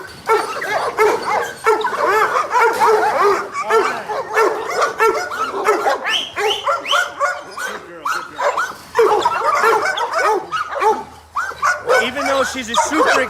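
A high-intensity game-bred bandog barking, yipping and whining excitedly in a rapid, loud, close series, with constant overlapping yelps and no pauses.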